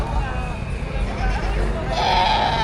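A goat bleats loudly toward the end amid the chatter and crowd murmur of a livestock auction market for cattle, goats and carabao in Padre Garcia, Batangas, with talking throughout.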